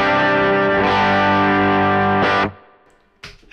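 An electric guitar played through a pushed overdrive pedal with a little Tonex reverb rings a loud, sustained distorted chord that cuts off abruptly, followed by a brief reverb tail and a faint string noise.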